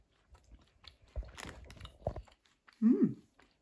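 Fruity, slightly sour sweets from a Sugar Noms box are chewed up close, with moist crunchy bites and mouth noises in bursts, followed by a short hummed murmur of enjoyment.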